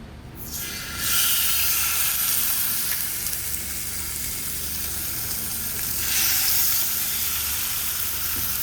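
Fish frying in a pan on a houseboat stove after crushed pink Himalayan salt goes in, a loud continuous sizzle and hiss that swells near the start and again later, no talking.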